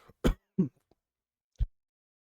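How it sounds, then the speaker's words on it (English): A couple of short, sharp coughs close by, followed by a brief pause and one more soft cough. "Sorry, had a cough."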